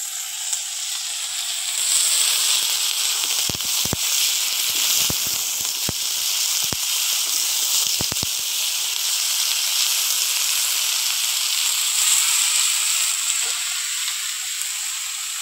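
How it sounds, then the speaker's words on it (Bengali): Chopped onion, green chilli, spices and vegetables sizzle in hot oil with a loud, steady hiss, broken by a few sharp clacks of a utensil against the pan. "পেঁয়াজ কুচি, কাঁচা লঙ্কা আর একটু মশলাটা ভেজে নেব।"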